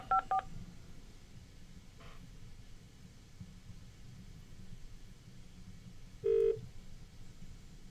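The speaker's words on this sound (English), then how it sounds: "it's a lot of digits to dial" Telephone keypad DTMF tones dial digits on a landline call: a quick burst of clear beeps at the start, a faint tone around two seconds, and one longer louder tone near the end, all over low background rumble.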